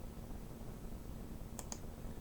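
Two quick computer mouse clicks, close and faint, over a steady background hum while adjusting an image's colour cast.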